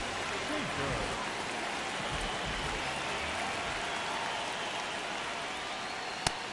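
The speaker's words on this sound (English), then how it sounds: "This rain is not letting up." Steady rain pouring down during a Cincinnati Reds at Syracuse Lions baseball video game, a broad even hiss with a voice talking over it and one sharp click near the end.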